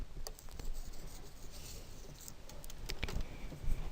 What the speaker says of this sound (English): let me erase these